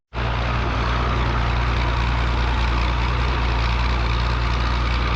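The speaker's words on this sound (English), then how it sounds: "the P6 Major is purring away beautifully" A 1949 Fordson P6 Major tractor engine runs at a Scottish vintage tractor show, starting abruptly into a loud, steady low rumble that holds at an even pitch, close up with no talk.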